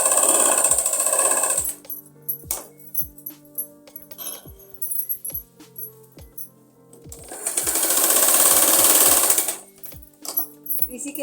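A sewing machine runs in two sustained bursts stitching umbrella frock fabric, with quieter handling clicks and taps between the runs.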